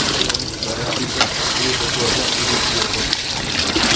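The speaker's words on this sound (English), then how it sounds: "you throw the water out of that" Water gushes out steadily while food is cooked at an outdoor party in Jamaica, a continuous loud pouring and splashing sound with voices talking over it throughout.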